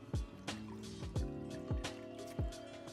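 Liquid drips and splashes in a few separate bursts as excess oil, grease and water are squeezed out of an air filter, close and fairly quiet, with no talk.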